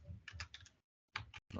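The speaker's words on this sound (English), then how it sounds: "Oh, am I typing?" Quiet typing on a computer keyboard, a few quick runs of key taps, then a short pause and two more brief bursts, with no talking.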